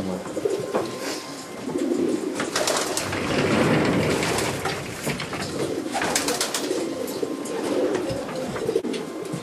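Racing pigeons coo continuously in a loft, a dense, close chorus of soft throaty calls with faint rustling and no clear talk.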